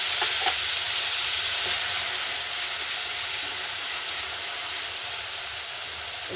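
Spice paste sizzling in hot oil with black cumin seeds for a Bengali bata fish curry, a loud, steady frying hiss with a few faint pops and clinks, no voices.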